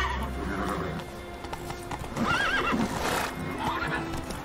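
Roach, a horse in The Witcher 3 video game, gallops with rapid clip-clop hoofbeats and lets out a high, wavering neigh midway through, with game ambience underneath.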